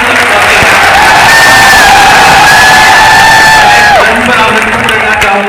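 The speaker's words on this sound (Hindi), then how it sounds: "एक बार तालियों की गड़गड़ाहट," Loud, sustained applause and cheering from a large crowd at an education event in Udaipur, a steady roar with shrill whistles rising above it.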